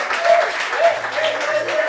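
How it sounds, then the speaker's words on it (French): A studio audience on a French talk show gives steady, continuous applause for a guest, a close, even wash of clapping with a faint thin whistle-like tone running through it. "applaudissez pour le sourire de Grâce"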